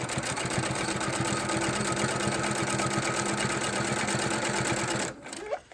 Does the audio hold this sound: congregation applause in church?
no